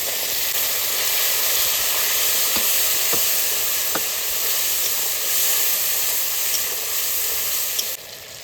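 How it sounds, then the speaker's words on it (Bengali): Onions sizzling in hot oil with ginger, garlic and green chilli, a steady loud hiss with a few soft stirring clicks throughout, no talking. "পেঁয়াজটা লাল করে বেঁধে নিচ্ছি এবার মশলাটা দিয়ে দেবো আদা রসুন আর কাঁচা লঙ্কা"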